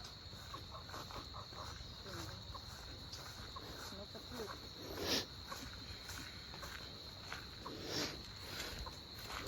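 Crickets chirp at night along a roadside while people search for them, a steady high insect trill running throughout with brief louder bursts, under faint movement and occasional nearby talk.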